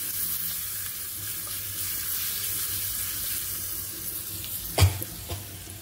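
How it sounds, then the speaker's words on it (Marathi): A tempering of garlic and curry leaves frying in oil for potato filling: a steady close sizzle runs throughout, with a sharp clink of a utensil near the end and no speech. "आता आपल्याला हे चांगलं ही फोडणी जी चांगली ती तेलावर परतून घ्यायची आहे."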